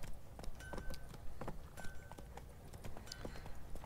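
Horse hooves clip-clop at a walking pace in the video game The Witcher 3, quiet and rhythmic, mixed with faint game ambience and a few light jingling tack sounds.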